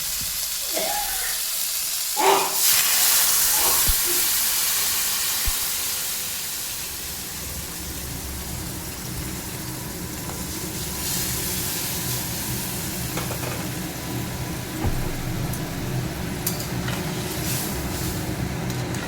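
Crab sizzling and frying in a pan with spices, with a sharp hiss and burst of steam as water is added, then a steady bubbling sizzle continuing alone at moderate level.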